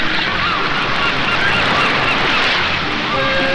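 Gulls call over a tuna pole-fishing boat in the Galapagos, honking cries layered over a dense, loud wash of wind and engine noise, heard close and continuously.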